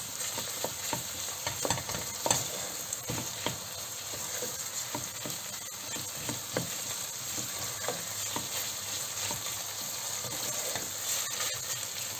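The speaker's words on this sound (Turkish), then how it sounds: "Güzelce kokusu çıkıncaya kadar kavuruyoruz." Tomato and pepper paste sautéing in a pan for Turkish sulu köfte, a soft continuous sizzle with light irregular stirring taps and scrapes, fairly quiet and close, with no one talking.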